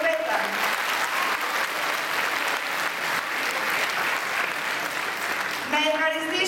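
An audience at a cultural tribute event gives sustained loud applause to girls who danced, with a voice over a speaker system talking over the clapping near the end.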